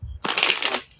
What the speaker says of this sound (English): Let's get back to shuffling.